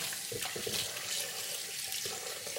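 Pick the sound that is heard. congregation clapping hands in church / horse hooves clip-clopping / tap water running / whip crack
tap water running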